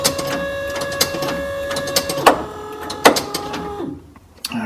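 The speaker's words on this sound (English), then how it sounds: "Yeah, this is the wiper. And those are working." A windshield wiper motor on a 1951 Ford pickup whirs steadily, with rhythmic clunks about once a second as the arms sweep, then winds down and stops near the end.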